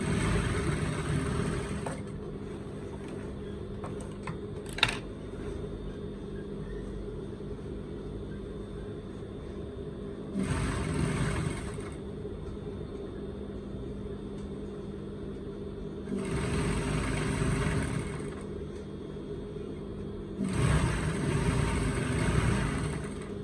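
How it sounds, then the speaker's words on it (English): A sewing machine stitches fabric for hip padding in bursts of steady whirring, three or four runs separated by quieter pauses, with a low background hum and no talking. "now I'm just going to go ahead and start sewing"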